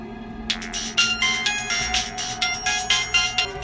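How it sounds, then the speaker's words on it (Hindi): A telephone ringtone from a horror story sound effect rings in a steady repeating pattern of bright electronic pulses. It is loud and close, with no voices over it. "अचानक मेरी आंख एक फोन कॉल से उठी"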